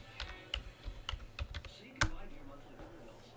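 Keys clatter on a computer keyboard as an earnings search is typed into the Yahoo site: a handful of separate, fairly quiet clicks in an uneven rhythm, followed by a slightly louder final keystroke.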